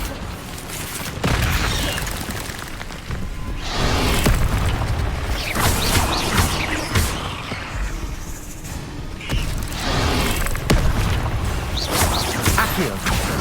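Incendio fire spell cast in the Hogwarts Legacy video game: repeated whooshing bursts and booming impacts amid combat clatter, loud and busy across the stretch.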